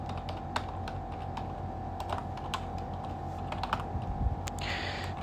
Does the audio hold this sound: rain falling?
no